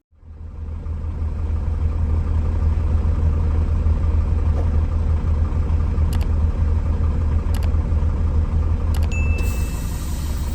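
Air compressor on a Mercedes Vario truck starts up and runs with a loud, steady low rumble and drone for about ten seconds, then a hiss of air releases at the end as the pressure switch cuts out.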